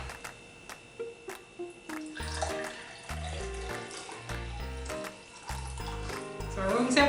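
Room temperature water being poured, a gurgling, splashing flow that builds toward the end, under a steady pattern of rhythmic background music.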